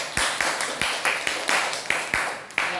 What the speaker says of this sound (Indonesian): tepuk tangan buat Mila